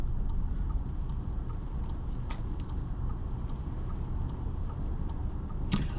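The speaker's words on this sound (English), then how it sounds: "going to keep the indicator on so that people know what my intentions are" A car's turn indicator ticks in a steady, even rhythm, soft and close, over a low idling engine hum, with a couple of faint sharper clicks.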